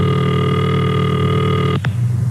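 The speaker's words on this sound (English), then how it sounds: "And this is the ringing signal." Steady buzzing telephone ringing tone from a 1936 newsreel, a continuous harmonic hum held for nearly two seconds before cutting off abruptly, followed by a quieter low hum.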